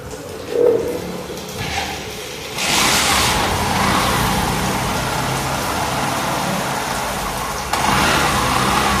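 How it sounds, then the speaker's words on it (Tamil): A Hero Passion Pro motorcycle, a B6 model converted with a Unicorn CDI on its original wiring, starts up and settles into a steady, close idle, with a brief blip of revving near the end. "வண்டி ஸ்டார்ட் பண்ணுவோம்."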